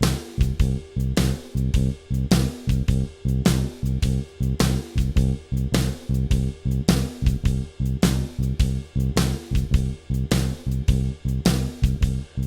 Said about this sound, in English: I'm doing a tiny bit of muting here with my left hand just to get a slightly dampened effect